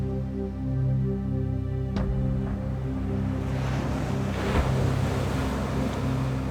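Pacific Ocean surf breaks at the foot of towering cliffs on Taiwan's east coast, a loud continuous wash of waves with low rumble and gusty wind buffeting the microphone, no voices.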